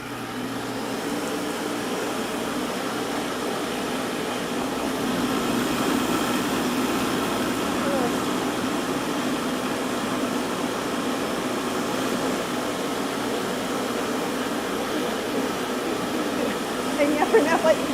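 A kitchen machine blender runs at speed 8, chopping brown rice into a steady, loud whirring roar that stays even for a long stretch and swells slightly toward the end.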